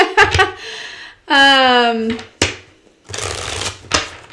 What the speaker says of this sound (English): Yeah, let's get some new cards.